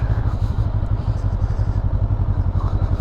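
A Honda SCL500 twin-cylinder motorcycle passes close by, its engine giving a steady, loud, pulsing low-pitched chug throughout the three seconds with no voices over it.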